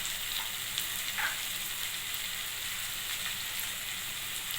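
Ground cumin, coriander and chili powder sizzle and fry in a pan for chicken pasta, making a steady close hiss with faint scraping as they are stirred.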